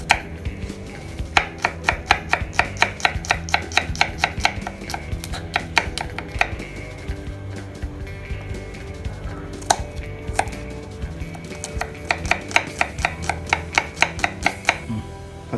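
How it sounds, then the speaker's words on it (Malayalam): Green chillies and garlic being chopped on a board, rapid bursts of sharp knife strikes in quick runs with brief pauses, close and crisp, with no talking. "പച്ചമുളകും ചോപ്പ് ചെയ്തെടുക്കുക. വെളുത്തുള്ളി അതേപോലെ."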